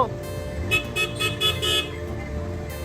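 A car pulls up and sounds a series of short horn toots in a quick run, fairly close, over a low engine rumble and roadway noise.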